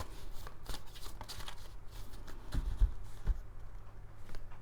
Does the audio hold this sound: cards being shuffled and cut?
yes